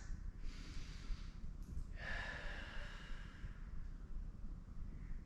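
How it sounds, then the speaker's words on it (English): Deep, drawn-out breaths during a chest stretch in a suspension trainer workout, with a long airy exhale that rises, then fades against a low, steady background hum. "Take some deep breaths."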